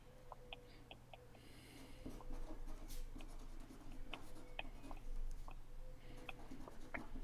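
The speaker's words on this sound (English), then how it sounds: "let's notice again how it feels to put those letters on that piece of paper" Pen strokes writing letters on a piece of paper, a soft scratchy run of short strokes and taps, close but faint over a low steady room hum.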